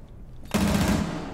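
Automatic gunfire in Rainbow Six Siege sprayed through a wall starts abruptly after a brief hush, a dense loud burst of rapid shots that fills the rest of the moment.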